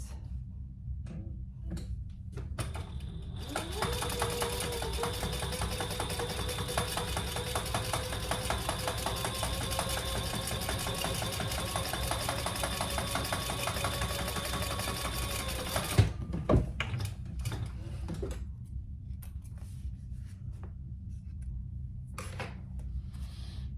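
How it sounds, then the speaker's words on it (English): A sewing machine top stitches the side piece of a fabric wallet in one continuous fast run of rapid mechanical ticking, close and steady for about twelve seconds, then stops, followed by a few faint clicks and handling noises. "we're gonna top stitch that on the side piece"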